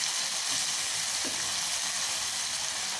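Capsicum (shimla mirch) frying in a pan gives off a close, steady sizzle, with light stirring scrapes through it.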